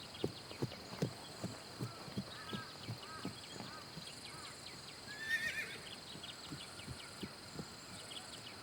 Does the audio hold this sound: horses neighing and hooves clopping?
yes